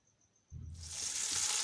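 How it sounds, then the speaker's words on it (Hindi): Chopped onions begin sizzling in a cup of hot oil for chicken pulao, a sudden steady hiss that starts after a brief quiet and keeps building, close and fairly loud. "प्याज को हम फ्राई करते रहेंगे"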